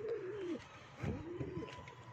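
Pigeons coo in low, rolling calls, one near bird's coo followed by another round of softer cooing, with no one speaking.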